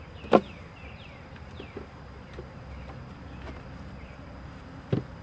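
Angry honeybees around a hive producing a continuous close buzzing drone, with individual bees whizzing past and a couple of sharp knocks.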